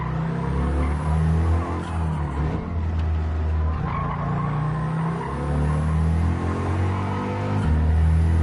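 A race car in the Gran Turismo 7 video game roars at high revs around 6,500 rpm, a loud sustained engine drone with shifting pitch and tire squeal running the whole way without pause.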